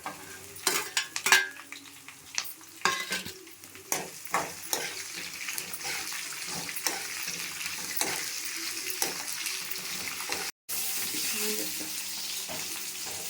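Green chillies frying in hot oil for a chilli pachadi, a steady close sizzle broken by repeated scraping stirs of a spatula in the pan, with a short gap near the end.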